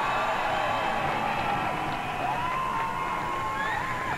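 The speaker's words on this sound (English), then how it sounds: "Round of applause for Jermaine Andre, everybody." A crowd at a cruiserweight fighting event cheers with whoops and shouts, holding a steady, roaring din with some clapping mixed in.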